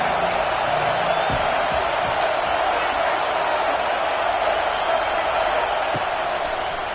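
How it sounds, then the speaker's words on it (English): A large crowd at a Texas A&M versus UT college football game roars in the stadium, a continuous loud wash of cheering and noise. "This crowd bringing the energy and noise early."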